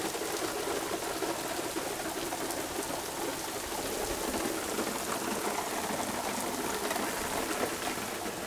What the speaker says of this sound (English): all of a sudden started the downpour